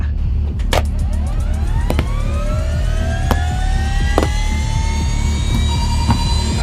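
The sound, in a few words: helicopter taking off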